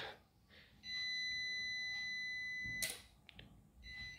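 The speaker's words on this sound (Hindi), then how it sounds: "थोड़ी बीप कर रही है ये लेकिन थोड़ी देर बाद बंद हो जाएगी" An old UPS used as an inverter, powering a bulb, gives a steady high electronic beep that holds for about two seconds, then breaks off into a few short clicks and blips, faint and close in a quiet room.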